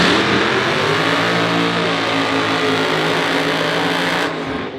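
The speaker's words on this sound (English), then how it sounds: "Ricca rolling out now in the tough streeters." A black race-prepared Camaro rolls out with its engine revving loud and continuous, a throaty roar that stays steady before easing off at the very end.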